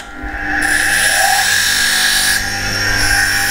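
An abrasive grinder bites loudly into a rusty steel Mustang fuel tank, grinding holes in it with a harsh, high-pitched continuous whine that shifts slightly in pitch as the load changes, close and alone.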